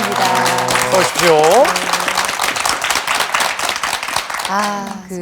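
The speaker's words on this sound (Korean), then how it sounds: "박수로 맞아주시겠어요?" A Korean TV talk-show studio audience claps steadily and warmly throughout, welcoming a married couple as guests, with musical tones rising over the applause at the start and again near the end.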